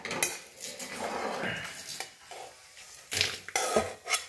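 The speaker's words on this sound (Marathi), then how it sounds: "लवंग भाजून घेऊया।" Cloves are dry-roasted in a pan, stirred with a utensil that scrapes and clanks against the metal, producing close, irregular rattling and knocks, louder toward the end.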